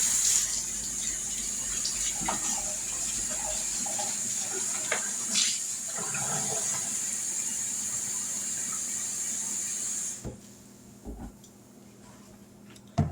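A kitchen tap runs steadily for about ten seconds, filling a container with warm water in a constant close hiss and splash, then shuts off, leaving a few small clinks and knocks.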